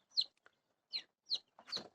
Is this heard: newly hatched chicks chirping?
yes